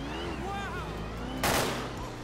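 A sharp burst of gunfire in GTA 5 rings out over a street scene with a car engine droning underneath, following a stretch of someone talking.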